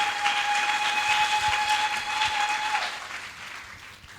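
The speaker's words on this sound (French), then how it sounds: "Acclame très fort pour Jésus." A church congregation claps loudly and steadily for Jesus, a dense roar of hands with a sustained high tone ringing over it before the applause thins out near the end.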